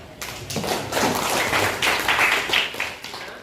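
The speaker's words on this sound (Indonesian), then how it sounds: "Tepuk tangan buat" A classroom of students applauds on cue from the teacher, a dense, close burst of hand clapping that swells and continues for a few seconds.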